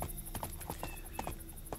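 Horse hooves clip-clop steadily while riding in the PC video game Two Worlds 2, a regular rhythmic gait of close, clear hoofbeats with no talk over them.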